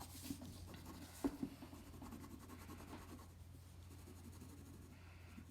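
Ballpoint pen on paper during a value drawing, a soft continuous scratchy rubbing of the pen tip with a couple of small taps, faint and close, no talk.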